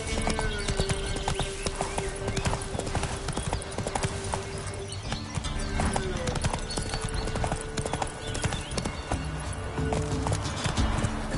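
Roach the horse from The Witcher trotting, with a continuous rhythmic clip-clop of hooves close by and loud throughout, over a busy game soundscape.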